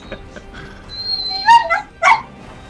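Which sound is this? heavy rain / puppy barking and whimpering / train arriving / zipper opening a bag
puppy barking and whimpering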